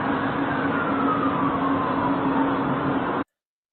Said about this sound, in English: So there they are, sirens.